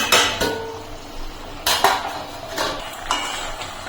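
A cooking pot holding a bitter gourd, potato and rohu fish curry is handled with metallic clanks and scrapes, several distinct knocks spaced through a few seconds as the lid is set on, over a soft background hiss.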